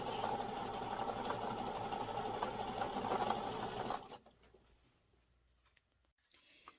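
A sewing machine zigzag stitches the sides of a fabric heart monitor pouch, a steady close whirring run for about four seconds that then cuts off into quiet.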